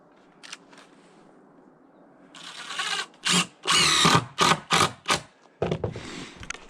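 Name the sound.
power drill driving screws into deck boards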